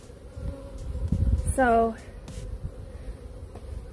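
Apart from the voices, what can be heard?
honeybees buzzing around an opened hive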